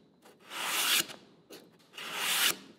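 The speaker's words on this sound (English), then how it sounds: "I'm gonna take my same sanding block and I'm just gonna go" Sanding block rubbed at a 45-degree angle along a wooden edge to break it, two distinct close strokes with a short pause between them, each swelling and then stopping abruptly.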